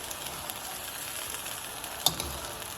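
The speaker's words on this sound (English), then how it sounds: "This I'm going to stir gently with the 2 spatulas" Rice noodles for Singapore noodles are stirred gently with two spatulas in a pan, giving a soft, quiet sizzle with light scraping and one sharp clack near the end.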